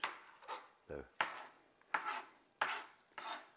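A knife chops tomatoes to be diced on a board with about six separate, close thuds in an uneven rhythm, each followed by a short scrape, quiet and with no talk.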